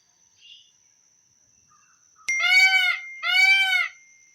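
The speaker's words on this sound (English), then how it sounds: "Peacock." Peacock calling, two loud nasal honking cries in quick succession, harsh and close, following a faint brief sound near the start.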